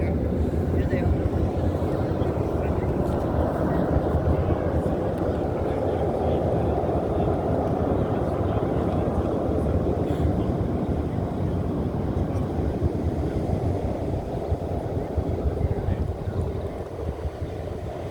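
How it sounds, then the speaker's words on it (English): Air show planes flying past in formation over Ocean City, Maryland: a continuous loud broadband engine roar that holds steady for the whole stretch, with people talking in the crowd beneath it. "for those planes to be in such formation, it's like almost beautiful"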